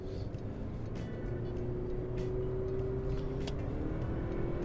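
A 2025 Toyota Prius plug-in hybrid driving, heard as a quiet, steady low rumble of road and cabin noise with a faint even hum, no talking.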